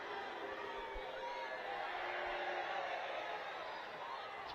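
Crowd at a Women's Super League football match between Liverpool FC Women and West Ham, a distant continuous roar of voices swelling slightly at the midpoint.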